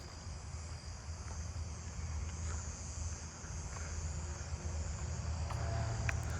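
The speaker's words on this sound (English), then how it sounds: "here we go, southeastern field cricket" A southeastern field cricket trills steadily in a backyard at night, faint and distant, with a soft wind-like background hiss and no voices.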